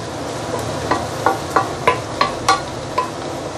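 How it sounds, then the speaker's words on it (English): Rhythmic scraping and clinking of a spatula against a wok while stir-frying rice noodles for char kuay teow, roughly every half second, over a soft background hiss. "Stir-frying rice noodle is much more easier than doing bihun"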